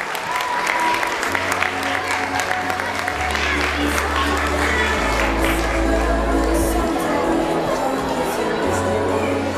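A large audience at a dance award ceremony of the Russian Dance Olympiad applauds with loud, dense clapping that stays steady throughout, with a low hum of music or crowd noise underneath.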